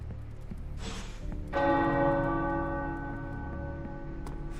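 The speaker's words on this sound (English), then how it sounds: "The tower bells are ringing." Church-style tower bells ring out in the video game Marvel's Midnight Suns: a loud struck peal with long sustained metallic overtones that swells after a soft opening and slowly decays over several seconds.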